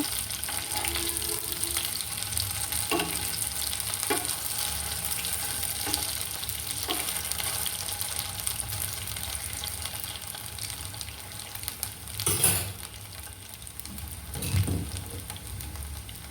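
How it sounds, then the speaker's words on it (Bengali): Banana peel fritters frying in a covered pan over a medium flame, a low continuous sizzle with scattered faint ticks and two louder rattling bursts near the end, like a lid or utensil shifting. "এখন ঢাকনালায় আরও কিছুক্ষণ রান্না করব যাতে ভাজা হয়ে যায়"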